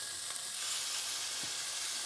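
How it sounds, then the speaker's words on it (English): Mushroom skewers fry in hot oil with a steady, soft crackling sizzle, close by and even throughout, with no voices. "So what we're trying to do initially is just to fry off that water."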